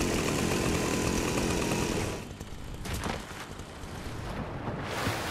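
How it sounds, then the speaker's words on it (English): The chainsaw item in Fortnite revs loudly, a harsh buzzing roar that drops to a rougher, quieter idle with sputters and bursts partway through. "Yeah, I think the chainsaw is a pretty fun item"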